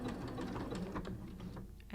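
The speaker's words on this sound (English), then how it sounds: "And finish, of course, with the back stitch." A sewing machine runs a steady, continuous back stitch on homemade underwear fabric, its rapid needle chatter close and even throughout.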